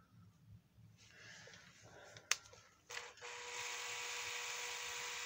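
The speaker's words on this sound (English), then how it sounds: "We're going to pop our drill in there" An electric power drill spins an engine's oil pump through a main bearing, starting with brief handling clicks before a steady, loud high-pitched whir takes over from about three seconds and runs on evenly to the end.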